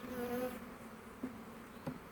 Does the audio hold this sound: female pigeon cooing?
no